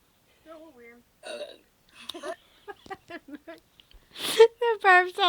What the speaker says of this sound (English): The burp sounds so funny.